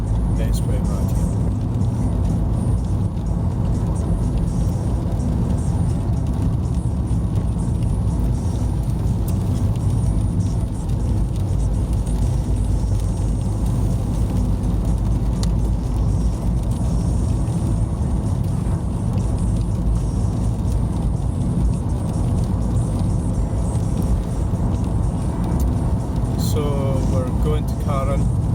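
A car, owned since about 2017 or 2018, drives along Moss Road between Stirling and Falkirk, its steady engine and tyre rumble loud and continuous from inside the cabin, with a voice briefly audible near the end.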